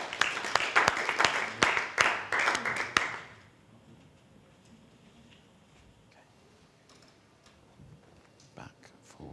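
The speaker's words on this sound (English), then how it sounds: "Let's give a round of applause for Farid" Audience applause at an innovation fellowship pitch event in Indonesia: dense, fairly loud clapping from a room full of people for a few seconds, then a sudden fade to quiet room tone with scattered small knocks.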